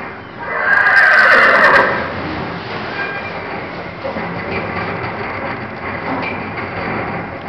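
A big draft cross trail mare lets out a loud, close whinny lasting about a second, followed by quieter rustling and background noise.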